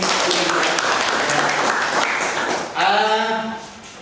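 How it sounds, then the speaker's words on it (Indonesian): Applause from students in a classroom during a lesson, a dense burst of clapping that runs steadily, then fades out as a voice begins speaking near the end. "Oke, kita berikan aplaus sebelum."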